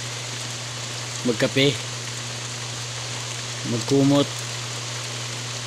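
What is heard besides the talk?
rain falling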